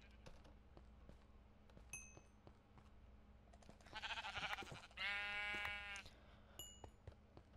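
Sheep in the video game Minecraft bleat twice in close succession, loud wavering cries over quiet keyboard and mouse clicks. Faint game sounds fill the gaps.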